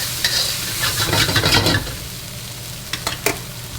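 Creole boudin sausage, squeezed from its casing, sizzles and renders in a hot pan, with a steady close frying hiss and a few bursts of stirring scrapes.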